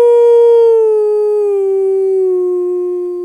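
A person imitates a wolf with a single long, loud, clear howl that slowly slides lower in pitch and fades slightly over about three seconds.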